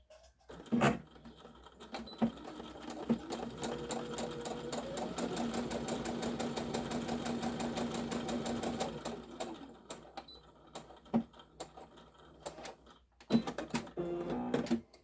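Sewing machine stitching the inside pieces of a small fabric gift box: a steady mechanical whirring run of several seconds, framed by shorter starts, stops and clicks, close and moderately quiet with no speech.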